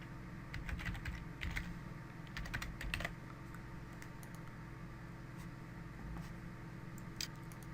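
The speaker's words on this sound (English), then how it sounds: "Then I'll type in the password." A password is typed on a computer keyboard, with soft, quick key clicks in short clusters over a faint steady room hum.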